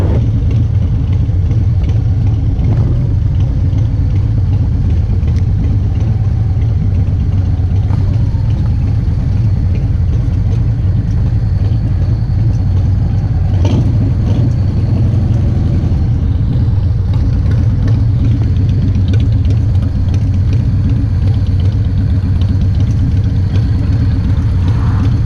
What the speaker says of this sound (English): Looks like we got a few motorcycles that showed up today.